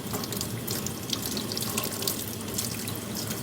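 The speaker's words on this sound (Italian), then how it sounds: "Quindi ci serve un coltello. E acqua corrente." Running tap water pours steadily into a sink while salted anchovies are washed one by one, a continuous close splashing hiss with no talking.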